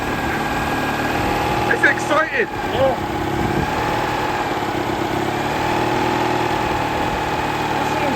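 A Citroen 2CV idles with a steady mid-pitched throb at close range, continuous beneath brief excited talk and a few knocks.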